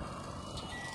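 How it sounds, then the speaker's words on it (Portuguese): A cab tractor backs up while mowing brush, its reversing alarm beeping over a steady engine drone in a brief, fairly faint burst. "O bruto tá vindo de ré agora."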